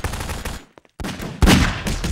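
Video game gunfire in short rapid bursts, two loud volleys separated by a brief near-silent gap, followed by sustained close shooting.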